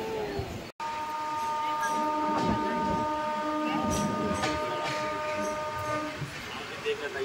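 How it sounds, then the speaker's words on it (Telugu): A train pulls out of a station, its long sustained horn tones layered over a continuous rolling rumble of wheels and carriages, close and loud, with people talking nearby. "ఇంకా మన ట్రైన్ అయితే మూవ్ అయిపోయిందండి"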